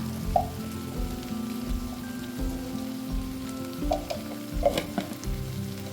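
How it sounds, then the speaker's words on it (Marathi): Cauliflower and potato pieces frying in a pan with turmeric and masala, a steady close sizzle with crackles and occasional clinks of a spoon stirring. "ह्यामध्ये मी घालत आहे थोडी हळद, मसाला"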